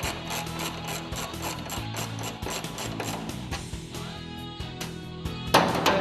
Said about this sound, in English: using the 5mm socket or Allen wrench.